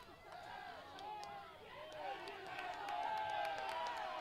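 A women's soccer crowd swells after a foul is called, a rising mix of cheering, chatter and scattered clapping from the stands, growing louder across the moment with speech over it.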